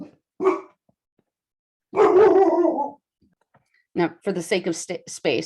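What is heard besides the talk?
dog barking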